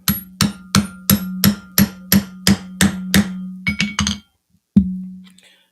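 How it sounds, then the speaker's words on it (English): A hammer strikes rivets into leather in a steady run of about ten sharp, ringing metallic blows, then a few quicker taps, a pause and one final hit, loud and close with no talking. "There I was beating on the leather."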